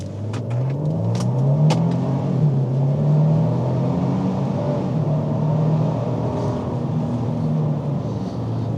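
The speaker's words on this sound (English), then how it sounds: "I'm going to accelerate fast so you can hear what it sounds like" From inside the cabin, a 2025 Nissan Armada SUV accelerates hard in sport mode, its engine note rising and stepping through gear changes in a loud, sustained drone, a few clicks early on.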